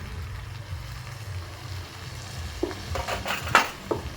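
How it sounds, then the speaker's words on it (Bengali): Tomato and turmeric frying in a pan, a low steady sizzle with a few sharp clinks of a utensil stirring against the pan near the end. "টমেটোটা দিয়ে এবার ভালো করে কষিয়ে নেব।"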